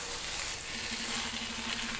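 Zucchini and chicken pancake frying in a pan, a steady broadband sizzle holding at an even level for the full two seconds, with a faint low hum running underneath and no voices.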